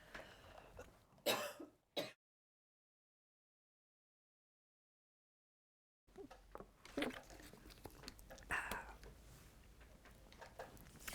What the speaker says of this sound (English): Excuse me, I'm just going to cough.